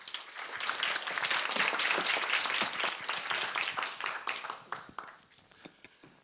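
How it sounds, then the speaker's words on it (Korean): At a university startup demo day in Korea, an audience welcomes the next presenter with brisk, dense clapping that swells quickly, holds for a few seconds, then thins into scattered claps and fades. "김승범 대표를 박수로 맞이해 주시기 바랍니다."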